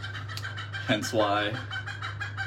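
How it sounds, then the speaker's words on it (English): Roosters crowing and clucking in the background, with a rising crow-like call near the middle over a steady low hum, while someone speaks briefly. "You can hear the roosters going nuts in the background."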